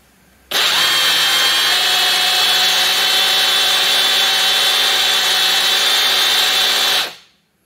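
A Sunc cordless rotary hammer runs at full speed for several seconds, a loud, steady high whine close up, then spins down and stops.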